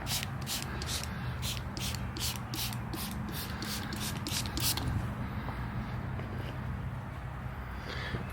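A spray bottle of glass cleaner fires about a dozen quick, even hissing bursts in a steady rhythm, close up on a car door, then stops, leaving a faint background hum.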